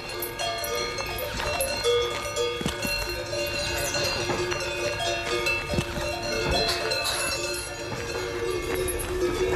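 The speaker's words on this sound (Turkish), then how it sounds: "İnek çanlarının çınlaması durdurak bilmiyor." A herd of cows moves through a valley with bells clanging continuously, a dense metallic jangle of many overlapping cowbells with occasional hoof sounds, steady and fairly loud throughout.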